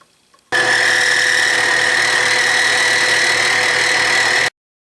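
A 3/8 inch end mill milling metal on a machine during a Mead band sander restoration: a steady, loud, even whine with a high tonal edge, starting and stopping abruptly over about four seconds.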